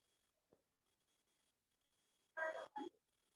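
Handwriting during a math lesson on dividing 837 by 27, with a brief scratch and then two loud, close pen or chalk strokes over near silence.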